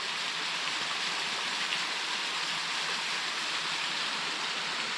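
A mountain stream beside a hiking trail near Sultan, Washington rushes steadily, a constant broadband wash of flowing water heard close and alone.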